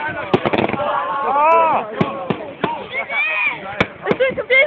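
Fireworks burst and crackle repeatedly at Twin Lakes, sharp pops and booms in quick succession mixed with whistling and excited voices talking throughout.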